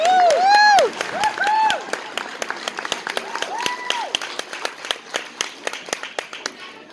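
Crowd applauds for Greg McCleary at a charity bash in Calgary, with whoops and cheers over the opening second before the clapping thins into scattered, sharp individual claps.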